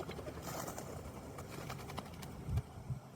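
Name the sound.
birds calling outdoors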